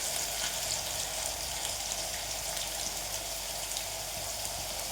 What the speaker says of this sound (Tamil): கொஞ்சம் தக்கா ஆயில் வச்சுருக்கேன் இந்த மிளகா பூண்டெல்லாம் அதில் போட்டு ஃப்ரை பண்ணி